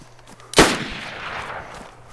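A single loud gunshot in a first-person shooter video game, sharp and close, followed by a long echoing rumble that fades slowly.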